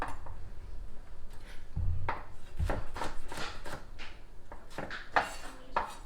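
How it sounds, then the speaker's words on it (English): Vegetables roughly chopped with a knife on a cutting board for a roast rack of pork with warm spices: a quiet, irregular series of hard chopping knocks, some falling close together. "Just a rough chop."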